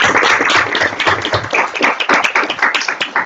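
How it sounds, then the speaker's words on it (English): A live audience at a global affairs talk series claps in a dense, steady burst of applause filling the room, loud and continuous with no speech over it. "Let's give a round of applause."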